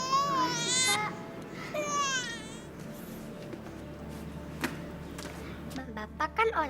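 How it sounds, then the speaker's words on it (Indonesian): An infant cries in the early morning in an Indonesian drama, two loud wailing bursts close by, then the crying gives way to a quieter room with talking. "Dengarin suara bayi nangis di pagi-pagi begini."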